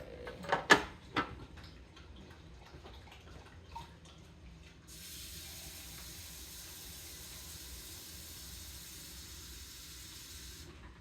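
Tap water runs in a steady hiss as a container fills for making yogurt, starting midway after a few clunks and handling knocks and continuing evenly to the end.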